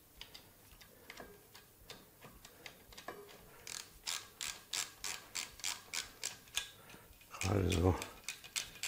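A ratchet tightens a bolt during fork service and wheel refitting on a Honda Africa Twin RD04 motorcycle, giving rapid, close, regular clicking strokes in short bursts that end in a louder scraping rattle.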